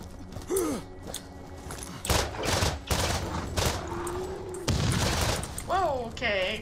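Several loud, sharp explosion bursts from the video game Borderlands, including a sudden blast midway, mixed with a voice and rising synthetic tones.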